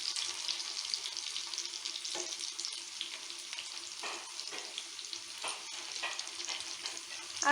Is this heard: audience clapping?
no